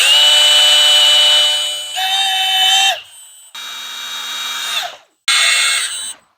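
Power drill driving screws straight into Color Guard vinyl porch railing, a loud close whine in several separate runs with short pauses between them and the pitch dropping as each screw seats.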